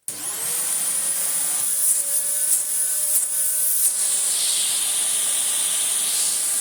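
A Bissell Lift-Off vacuum cleaner, restored and running with its hose removed, starts with a sudden rush, then holds a loud, steady high-pitched airflow whine and hiss, with slight shifts in tone as the air moves.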